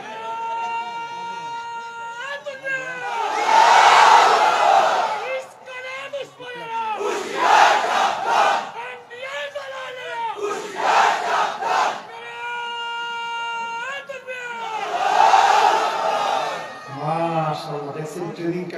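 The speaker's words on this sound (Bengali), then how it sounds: "একজন তাকবীর দিয়ে শোনায় দেবো দেখি" A large crowd shouts a takbir chant with no microphone, a leader's call and loud unison responses in repeated surging waves, voices powerful and close.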